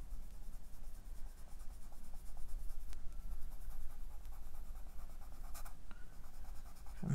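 Coloured pencils, Cajun Craze shade from assortment pack 2, are rubbed across a card in a steady, soft scratching stroke. The sound is close and continuous, with no talk over it.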